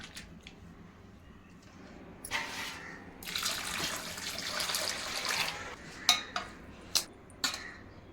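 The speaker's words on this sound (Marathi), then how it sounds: "आता आपल्याला 2 ते 3 पाण्यामध्ये स्वच्छ धुवून घ्यायचे आहे" Water sloshes and splashes in a bowl as grated potatoes are rinsed, with a few sharp clinks of a utensil against the dish near the end.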